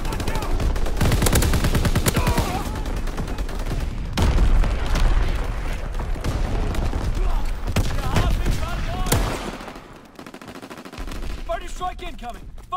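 Artillery and heavy gunfire pound through a war video game in dense, loud bursts of booms and rapid shots. The barrage drops off briefly near the end before resuming.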